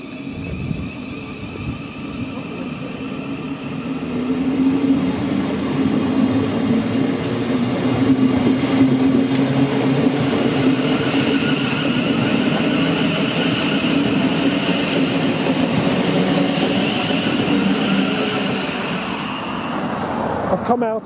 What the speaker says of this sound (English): let's just see the train depart.